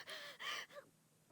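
Ayumi from the horror game Corpse Party gasps three times in quick succession, breathy and fairly close, with a short pause after the third before a fourth sharp intake begins at the end.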